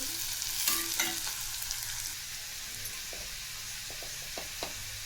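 Radish curry ingredients frying in oil in a village-style mulyachi bhaji, a soft continuous sizzle with occasional light taps and scrapes of a spoon against the pan, fairly quiet and without talk.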